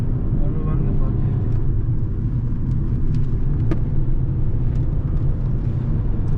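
A Fiat Egea 1.4 petrol sedan engine, tuned to 115 hp, roars at full throttle with a steady, heavy low rumble from inside the cabin, while people talk over the constant drone.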